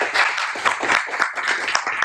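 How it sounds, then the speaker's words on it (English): A small audience claps at the close of a conference talk on Lido staking, a loose patter of hands at moderate level with uneven bursts, heard alone. "let's give another round of applause"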